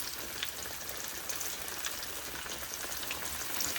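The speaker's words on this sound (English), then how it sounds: "I'm going to let them fry for about 5 minutes on each side" Chicken pieces fry in hot oil, giving a steady, dense sizzle with fine crackling pops throughout, close and even, with no voices.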